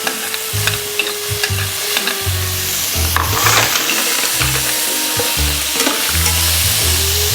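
Mussels and tomato go into a pan of frying garlic. The sizzle rises sharply into a dense crackle, overlaid with clattering shells and utensil knocks, and no one speaks.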